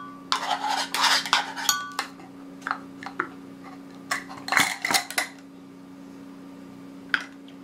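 Aloe vera gel scooped and scraped into a bowl while making hand sanitizer gel: a string of close clinks and scrapes of a utensil against the dish, in short bursts with pauses, over a steady low hum.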